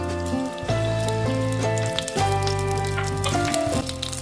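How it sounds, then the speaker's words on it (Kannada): A sprig of curry leaves sizzles steadily in hot oil for a fish masala fry, a loud, continuous crackle and spatter close up with no talking. "ಎಣ್ಣೆ ಕಾಯುತ್ತಿದ್ದಂತೆ ಕರಿಬೇವಿನ ಎಲೆಯ 1 ಕಡ್ಡಿಯನ್ನು ಅದರಲ್ಲಿ ಇಡಬೇಕು."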